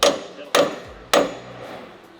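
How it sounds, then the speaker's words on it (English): Three sharp, loud hammer blows on car suspension parts while a new K-member is fitted in a motorsports shop, evenly spaced about half a second apart, each ringing out and decaying briefly. "Did you have to hammer them all"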